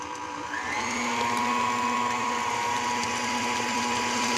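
An electric mixer runs steadily while whisked eggs are blended into cake batter, a continuous close motor whir with a sustained hum throughout and no talking.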